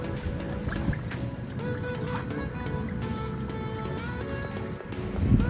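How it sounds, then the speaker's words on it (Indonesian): Water drains from the cooling system of a petrol Toyota Innova with its engine running, a steady trickling and splashing over the engine's hum, with a few drips and a louder gush near the end. "setelah mesin kita hidupkan, air yang di dalam ruang mesin akan keluar"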